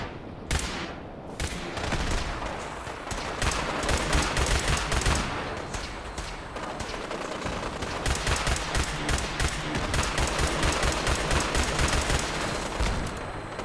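Rapid automatic gunfire from a weapon in Fallout 4, loud and sustained with dense bursts of overlapping shots and brief pauses, no talking.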